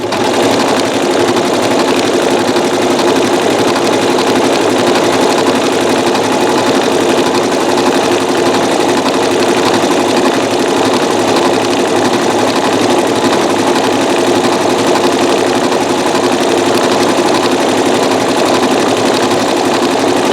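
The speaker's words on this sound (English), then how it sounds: "Alright, now let's sew." A Janome MC9900 sewing machine stitches with metallic thread in one continuous, loud, rapid run, its needle hammering evenly and motor humming close up without pause.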